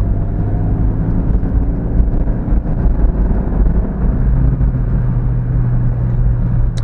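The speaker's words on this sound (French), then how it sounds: "On va chercher haut dans les tours, donc on a un bruit tout de suite beaucoup plus rauque." A Honda CR-Z's naturally aspirated engine revs high and steady with a raspy, dense roar, loud and close, holding its pitch for several seconds without any talk.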